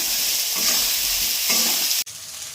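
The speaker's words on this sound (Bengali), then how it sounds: "এবারে আমি আলুগুলো দেব, দিয়ে কষাবো।" Potatoes stir-fried in a pan with turmeric, hissing in a continuous close sizzle with scraping stir strokes, and a sudden clunk just before the end.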